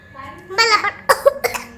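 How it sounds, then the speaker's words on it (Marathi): A child coughs two or three short, sharp times close by, with brief speech just before. "खोकला येतोय वाटतं"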